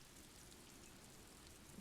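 Soft, steady rain ambience from the video game Disco Elysium, a faint continuous patter with no talking.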